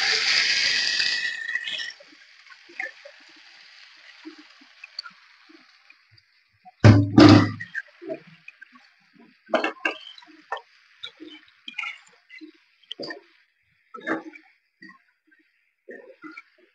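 Chicken pieces frying in a little oil in a hot wok, with a loud broadband sizzle at first, then a heavy splash and scattered crackles and pops that fade to quieter sputtering.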